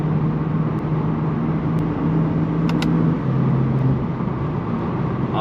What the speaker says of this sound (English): Oh, and those intakes sound amazing.